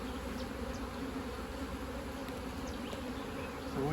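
A dense, steady drone of honey bees buzzing around an open hive as it is split into nucs outdoors, close and continuous with individual bees zipping past.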